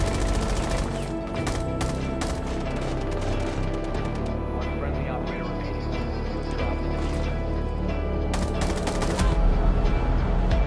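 Automatic rifle fire in Rainbow Six Siege, the AUG used by operator IQ, rattling in dense sustained bursts through the whole stretch, loud and close, with sharper cracks near the end.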